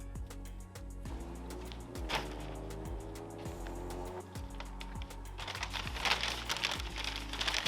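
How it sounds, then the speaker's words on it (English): A brisket is wrapped tightly in crinkly peach butcher paper outdoors beside a Mini IVS smoker, with steady close crackling and rustling plus scattered sharp ticks throughout. "So we'll get her wrapped up in peach paper and get her back on."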